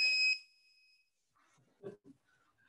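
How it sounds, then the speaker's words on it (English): Workout timer alarm during a taekwondo home padwork session, one short loud electronic beep at the start, followed by faint quiet thuds and rustle. "If I can change that alarm, maybe I'll make it a shorter beat."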